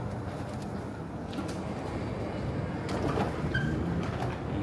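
A metro train at an MRT station platform in Kaohsiung, heard as a steady, moderately loud rumble with faint hisses and clanks over six-odd seconds, with no talking.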